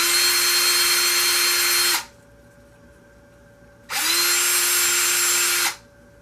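A power drill drives screws for a C-More red dot mount in two steady, close whirring runs of about two seconds each, split by a short quiet gap, with no voice.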